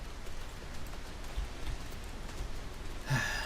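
Steady rain hisses in the Final Fantasy XIV video game as a broad, even wash of noise throughout, with a brief brighter burst near the end and no talking.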